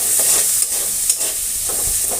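Chopped onions fry in a pan for aloo dum, a steady bright sizzle with occasional stirring scrapes and soft pops, close and continuous with no voices.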